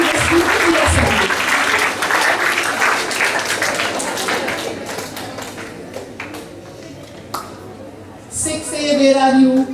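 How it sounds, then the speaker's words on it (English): Students applaud at a Class 6A school assembly, clapping in a dense, steady wash that fades near the end before a voice speaks over the hall. "big round of applause for Class 6A presenting this beautiful assembly"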